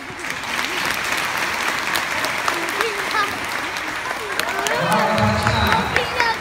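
Applause and cheering from a crowd at a dog trick show, with steady clapping under voices and babble and a dog performing tricks nearby.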